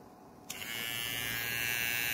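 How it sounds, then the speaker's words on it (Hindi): An HTC rechargeable cordless electric hair trimmer switches on after a short quiet moment, then hums with a steady, close, even buzz until the end, with no one talking. "इसको ऊपर करेंगे तो ये ट्रिमर हमारा चालू हो गया।"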